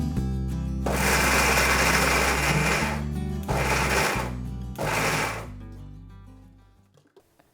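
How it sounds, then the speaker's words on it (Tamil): A mixer grinder whirs loudly in three bursts while grinding cooked mutton for cutlets. A long run is followed by two shorter pulses, then the motor winds down to silence. "இப்போ இதை வந்து மிக்சி கப்பில் சேர்த்துக்க போகிறேன்"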